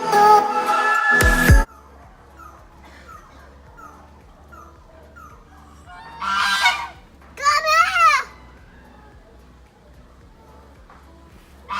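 A pet bird honks loudly several times in a home, with goose-like calls in short bursts alternating with quiet stretches, and a voice is heard at the start.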